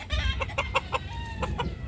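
Hens cluck in short repeated bursts, a few birds close by with a low rumble of background noise underneath.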